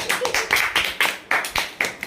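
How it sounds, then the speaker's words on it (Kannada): Several people clap in a quick, uneven burst of about eight sharp claps, close and loud, at a family gems game night. "ಹೊಡಿರಿ ಚಪ್ಪಾಳೆ"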